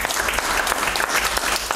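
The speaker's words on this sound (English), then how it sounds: "Let's give him a big hand clap this morning." A church congregation claps together during a morning service, producing a loud, unbroken burst of hand clapping with no voices over it.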